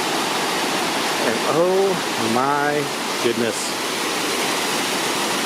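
Waterfalls cascading beside the track of a theme park cart ride through mountains and caves, a steady broadband rush of falling water filling the clip, with a person's excited voice speaking over it partway through.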